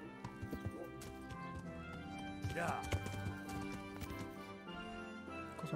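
Horse hooves clip-clop in a steady rhythm while riding in the video game Kingdom Come, paired with a brief whinny midway over a layer of quiet game music, as someone speaks a word briefly.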